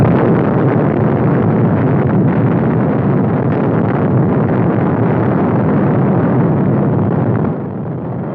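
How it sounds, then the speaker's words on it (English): A violent atomic bomb explosion in the New Mexico desert: a sustained, loud, dense roar and rumble that fills the whole clip without a break, easing slightly near the end, with no voices. "a violent explosion in the New Mexico desert."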